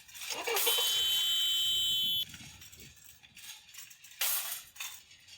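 A loud, steady electronic car horn in a video game blares for about two seconds, then cuts off, followed by a shorter burst later amid busy background noise.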